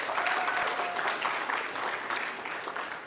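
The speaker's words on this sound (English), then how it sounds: "Please give them a round of applause." Steady crowd applause at an anniversary celebration honouring site coordinators: a full, continuous spread of clapping from many people at moderate loudness, unbroken from start to finish.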